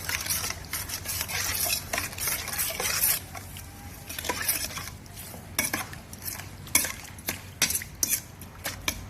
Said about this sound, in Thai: แล้วก็คนน้ำเนี่ยให้เข้ากันนะครับให้น้ำตาลละลาย